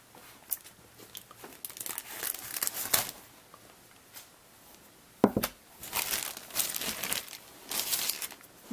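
Close crinkling and tearing as scissors cut open the plastic packaging of a 1:25 scale model car kit, irregular bursts of rustling with a few sharper snips and crunches, no talking.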